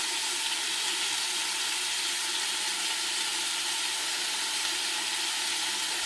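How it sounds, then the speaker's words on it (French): Pork belly and other meat fry with onions in a pan, a steady, even sizzling hiss that holds constant at moderate loudness with no talking. "on fait revenir toute cette viande avec les oignons"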